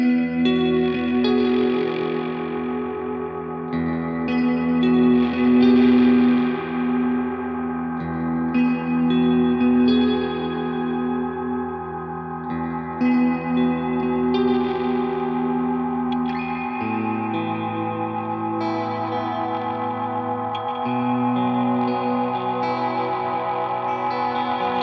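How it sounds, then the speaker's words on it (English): A JPTR FX Kaleidoscope pedal blends fuzz and reverb into a deep, lush wash of sustained distorted tones, with layered echoing swells that change pitch partway through and play continuously without any voices. "Let's add a bit more of the reverb volume now."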